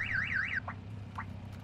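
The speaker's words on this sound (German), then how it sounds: "Geht der Alarm an, oder?" A car alarm in the video game Call of Duty: Warzone 2.0 gives a rising and falling electronic wail, then a few short chirps over a low steady hum.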